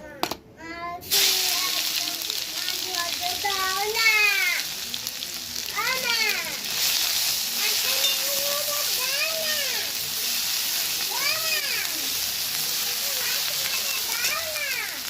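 Garlic paste frying in a wok, a continuous bright sizzle close by, with repeated chirpy, swooping sounds over it throughout.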